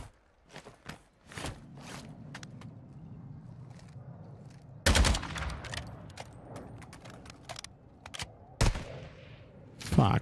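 Gunfire in Call of Duty: Warzone 2, a battle royale shooter, with scattered quiet shots and footsteps, then a few louder, sharper bursts spaced apart.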